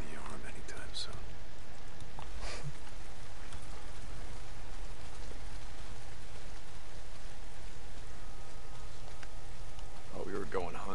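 Heavy rain pours down in the Days Gone video game, a steady broadband hiss with faint drops, continuous and even throughout with a few brief sharper sounds.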